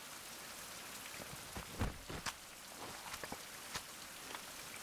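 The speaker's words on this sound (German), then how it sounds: "Mal gucken, ob es jetzt besser wird mit dem Regen." Steady in-game rain falls throughout a survival video game, a dense even hiss with scattered louder drop taps, moderately quiet.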